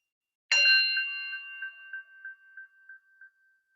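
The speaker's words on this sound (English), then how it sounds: "just taking the sound of the bell," A single bell is struck once during a gentle yoga class, its clear ringing tone decaying slowly with a pulsing shimmer over several seconds in an otherwise quiet room.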